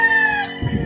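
A rooster crows loudly and close by at Starfish Beach in Tanza, Cavite, one long harmonic call that tails off into a low rough sputter.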